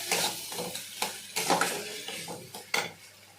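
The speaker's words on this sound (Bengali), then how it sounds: "এবার ভালো করে কষিয়ে নেব।" Prawn malai curry with green chilli and ginger paste sautéed in a pan, a spatula scraping and stirring in repeated strokes over a steady sizzle, close and fairly loud, no voices.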